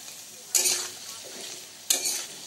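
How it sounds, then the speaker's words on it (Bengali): Onion and potatoes fry in a pan with a soft, steady sizzle, broken by two sharp bursts of stirring scrapes close by. "এরপরে দিয়ে দেব আলুগুলো দিয়ে 1 মিনিট ভেজে নেব।"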